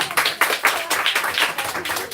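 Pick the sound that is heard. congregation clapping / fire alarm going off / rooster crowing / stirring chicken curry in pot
congregation clapping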